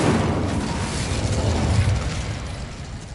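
Incendio fire spell cast in Hogwarts Legacy, a loud close rushing whoosh and rumbling burst of flame that sustains for about three seconds before easing slightly.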